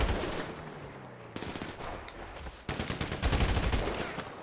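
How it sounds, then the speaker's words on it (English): Bursts of machine-gun fire from a Grand Theft Auto V shootout crackle loud and continuous, growing denser and heavier toward the end as several weapons overlap. "they're already shooting."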